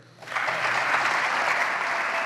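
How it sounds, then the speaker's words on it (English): Applause from Republican lawmakers erupts in the Wisconsin Assembly chamber, rising quickly after a quiet moment into a steady, dense wash of clapping hands that holds strongly to the end. "As Republicans in the Assembly chamber applauded, Democrats stayed seated"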